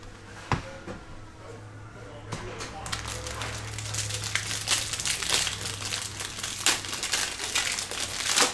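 A Bowman MLB jumbo baseball card pack is torn open by hand, with steady crinkling and crackling of foil wrapper that builds louder and busier over several seconds, close up.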